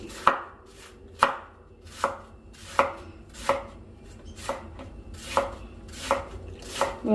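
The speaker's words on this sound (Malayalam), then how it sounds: "ക്യാബേജ് ഞാൻ കണ്ടത് ഇങ്ങനെ കുറച്ച് നീളത്തിൽ അരിയണേ" Knife chopping cabbage lengthwise on a board, about ten evenly spaced crisp thuds roughly every 0.7 seconds, close and clear with no talk over them.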